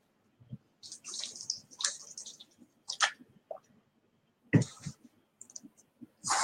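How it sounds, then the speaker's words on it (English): Someone takes a drink of water during a spoken card-reading session: a few close sips and swallows with small wet clicks and splashes, scattered across a quiet stretch with no talking. "And another drink of water."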